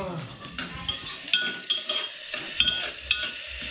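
A utensil stirs and scrapes food inside a pressure cooker, with repeated metallic clinks and taps against the pot over a light frying hiss, close and fairly quiet, with no speech.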